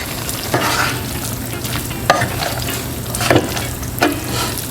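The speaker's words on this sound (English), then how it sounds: "Now all we have to do is toss in our pasta." Pasta is tossed in a pan with turkey sausage and kale, giving a loud, close sizzle with periodic scraping and clattering stir strokes roughly every second or so and no voices.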